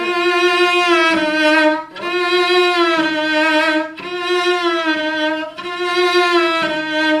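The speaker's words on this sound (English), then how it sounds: "I suggested a glissando." A cello plays four sustained bowed notes from Rachmaninoff's Andante in a row, each one sliding smoothly into pitch with glissando, rich and close with brief gaps between phrases.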